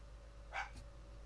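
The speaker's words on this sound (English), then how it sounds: "My dog's barking." A dog gives a single short bark from somewhere in the room, faint and a little distant over a low steady hum, with no talking.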